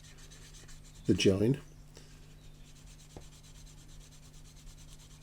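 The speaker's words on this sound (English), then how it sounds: "I'm just cleaning that up with some Mr. Hobby thinners" Short scrubbing rub on a 1/32 Zoukei Mura Bf109G-14 plastic model seam being cleaned with Mr. Hobby thinners, a half-second close burst mixed with a brief spoken word, then quiet room hum.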